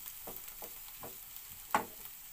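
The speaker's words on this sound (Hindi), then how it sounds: "हमारा प्याज जो है सॉटी हो गया है" Onions sauté in a hot pan for a paneer egg roll, a faint, quiet hiss with a few soft scrapes and one sharper clink of a utensil.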